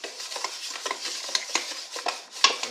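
Melted butter and sugar stirred in a bowl for double chocolate cookies, close rhythmic scraping and sticky swishing strokes with light clicks of the utensil against the bowl, no talk.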